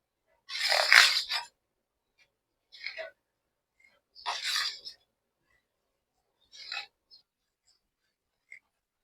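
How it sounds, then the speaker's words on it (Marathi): Dough for crisp puris, rich in iron, calcium and protein, is gathered and kneaded by hand into a ball, giving several soft rubbing, squishing bursts separated by quiet pauses. "थोडस थंड झालं की याचा एक हाताने गोळा मळून घ्यायचा आहे"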